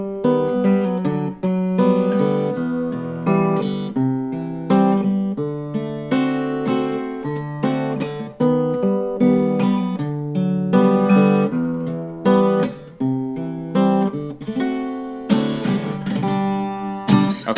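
An acoustic guitar plays a song in open position without a capo. Steady, close strummed and plucked chords ring out for the whole stretch, with no talking.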